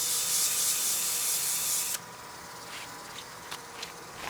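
Sandpaper rubs a lathe-turned wooden witch block head with a loud, continuous abrasive hiss that stops abruptly midway, followed by quieter light scrapes and taps close by.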